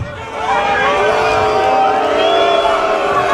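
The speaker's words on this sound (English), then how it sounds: "The Wynwood crowd doesn't like it." Wrestling crowd at a Wynwood event voices disapproval, a dense loud roar of many voices with shouts and whistles rising and holding steady.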